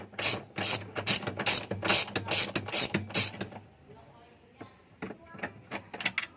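Rapid, rhythmic clicking of a ratchet tool undoing the screws on a washing machine drum and gearbox, loud and close for about three seconds, then fainter scraping and a few more clicks.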